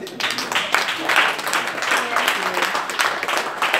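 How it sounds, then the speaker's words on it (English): A church congregation at an all-night prophetic prayer service claps together, a dense rhythmic clatter of hands rising and falling for a few seconds, mixed with voices. "Oh, clap unto the Lord."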